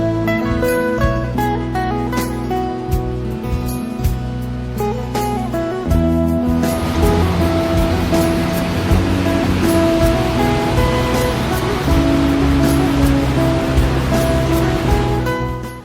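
Sentarum waterfall in a protected forest keeps up a loud, continuous rush of falling water, with music-like tonal layers running beneath it for the whole stretch.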